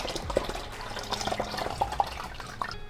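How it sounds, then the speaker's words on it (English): Water holding baby pleco fish is poured into an aquarium tank, giving soft splashes and scattered bright drips and plinks over a low liquid wash, close and fairly quiet, with no talk. "I'm just gonna pour them into the tank."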